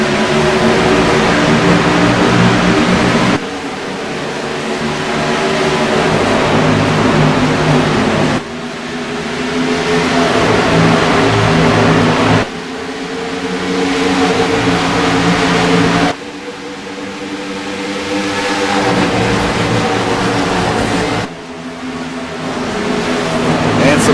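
Gen 6 stock cars at Kansas Speedway roar loudly in waves after a green-flag restart, with repeated engine surges and pass-bys forming a dense, continuous wall of sound at close range.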